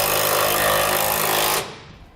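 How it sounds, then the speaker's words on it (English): A 13mm socket and wrench tighten a small bracket bolt during an air helper spring installation on a 2016 Ford F-350, a loud, steady mechanical rattling that runs for about a second and a half and then cuts off abruptly. "The small bolt, we'll use a 13mm socket and wrench"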